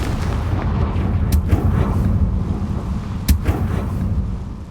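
The Confringo blasting spell from Hogwarts Legacy goes off as a heavy rumbling explosion with two sharp cracking bursts, loud and close over a continuous low roar.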